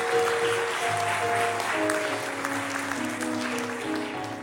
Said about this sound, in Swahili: Tumpigie makofi Rosaria.